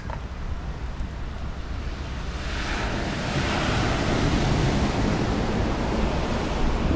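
Calm sea waves wash steadily onto a beach at low tide. The surf is a continuous broad hiss that swells slightly louder midway, with some wind rumble on the microphone.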